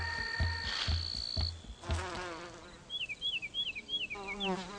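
Solitary bees buzz through the clip, with low pulsing tones early on and wavering chirp-like sweeps later, moderately loud and close.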